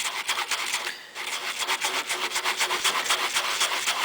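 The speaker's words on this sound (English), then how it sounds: "start rubbing it in very vigorously" Amodex stain remover is scrubbed hard into fabric with a stiff-bristled brush, giving close, rapid, rhythmic rasping strokes that go on steadily, with a brief pause near the start and no speech.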